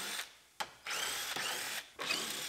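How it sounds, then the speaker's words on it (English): A power drill backing screws out of the dash pad of a 2015 Chevrolet Silverado cab: three short whirring bursts separated by brief pauses, close and moderately loud, with no talking. "Now we're going to take out the 100 screws that are holding the dash pad on."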